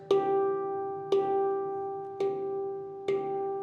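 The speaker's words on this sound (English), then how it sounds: "And that's how you strike the handpan." Four clear strikes on a D Kurd handpan, made with a flick of the finger at a slow, even pace, each a bright metallic tone that rings on and sustains into the next, close and fairly quiet.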